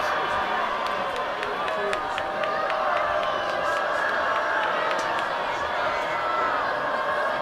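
A high school football crowd at a Winterset varsity game keeps up a long, loud, unbroken roar of yelling and cheering from the stands, with scattered shouts and claps inside the din.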